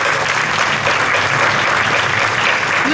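A crowd at the Toronto Rath Yatra festival applauds the artists, dense continuous clapping that stays loud and even throughout with a faint voice underneath.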